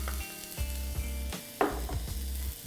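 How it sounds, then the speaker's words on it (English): Chopped onion, garlic and seeded red chilli sizzle in a pan, making a steady frying hiss under low background music, with a couple of sharper clatters from the pan or spoon. "I'm going to add some chopped onion. Some chopped garlic. Seeded and chopped red chilli."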